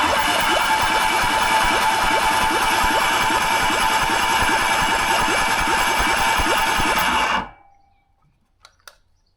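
A Yamaha XS650 motorcycle engine runs steadily and loudly up close, then cuts off abruptly, leaving near silence with a few faint clicks.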